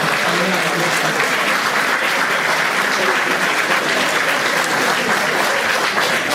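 Loud, steady applause from an audience at a cultural event, a continuous dense roar of clapping with some crowd noise mixed in.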